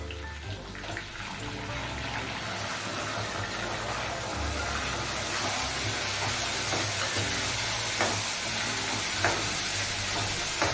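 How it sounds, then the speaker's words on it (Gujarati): Tomatoes hit hot oil over sautéed garlic paste and sizzle loudly and continuously. Stirring and scraping sounds cut through at intervals, with no voices. "હવે આપણે એમાં ટમેટાનો વઘાર કરીશું."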